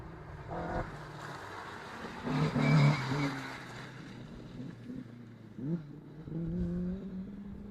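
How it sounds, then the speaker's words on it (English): A Mark 1 rally car accelerating along a stage, engine rising and falling through gear changes, heard at moderate distance with rough background noise. "next car, Alan McDowell it is, Mark 1"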